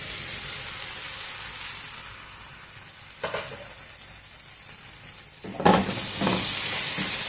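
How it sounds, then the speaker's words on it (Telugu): Spinach and fenugreek greens cook down in a pan for palak methi malai paneer, giving a steady soft sizzle with a couple of brief louder bursts of frying and stirring, no voices. "కొద్దిసేపు ఆకుకూరని బాగా మగ్గనిద్దాము."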